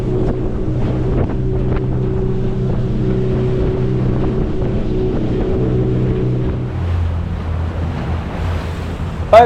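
A motorboat ride on open water through Horizontal Falls, with a steady engine drone and rushing water and wind buffeting throughout, the engine note dropping lower near the end.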